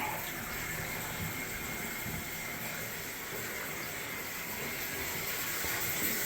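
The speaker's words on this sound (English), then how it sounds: "I'm blowing out the air on all the lines for her." A bathroom faucet runs with a steady, hissing rush as air is purged from the household water lines after a faucet replacement, close and continuous with no talking.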